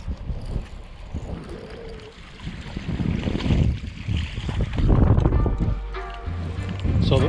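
Wind gusts across the Mississippi River around a fishing boat near a wing dam, a steady rushing and buffeting against the microphone that swells and eases, with water and boat noises mixed in.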